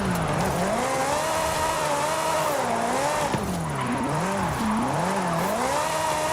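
A Ferrari drifts in Forza Horizon 5, its engine note rising and falling in long wavering sweeps as it slides through the turns. The car sounds loud and close, with a faint tire hiss underneath.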